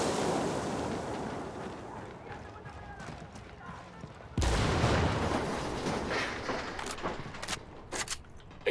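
A grenade blasts in the video game Ghost Recon Wildlands with one sudden loud boom, followed by scattered gunshots and ambient game noise while a player talks in German.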